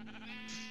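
A single sustained sheep bleat from Minecraft, steady and close, rising slightly in pitch toward its end, with no speech over it.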